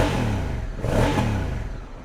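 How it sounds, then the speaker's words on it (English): A 2022 Honda Africa Twin Adventure Sports DCT motorcycle revs briefly up close, its exhaust rising to a throaty roar and falling back, loud and raspy. "What do you think of that exhaust note?"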